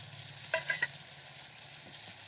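Salt, turmeric and chili powder hiss softly in a pan with a splash of water, a low steady sizzle broken by a few small clicks and taps of stirring.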